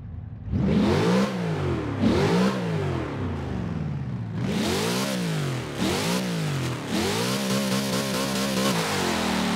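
A 1950s hot rod from the Doritos car pack in Forza 7 revs hard in a series of loud, close throttle blips that climb and fall repeatedly, with no talking.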